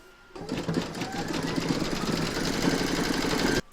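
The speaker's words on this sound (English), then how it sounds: "Pop your hoop into your machine and stitch round number 6 to secure it." An embroidery machine stitches fabric in the hoop with a steady, fast mechanical whir and rhythmic needle chatter that starts abruptly and cuts off after about three seconds, close and alone.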